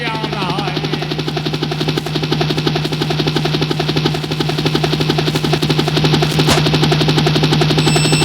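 A helicopter's rotor chops loud and close in a fast, steady thumping rhythm, with a constant engine whine underneath.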